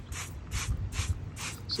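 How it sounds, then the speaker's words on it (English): Sonax wheel cleaner is sprayed from a trigger bottle onto a dry wheel in four quick, evenly spaced hissing bursts, close and moderately loud. "So it squirts out yellow in color."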